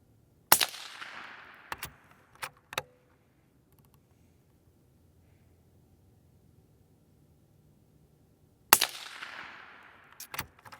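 Sharp, loud rifle shots from a Volquartsen Summit 17 Mach 2 at an outdoor range, several cracks in a quick cluster, then a long quiet gap and two more shots near the end.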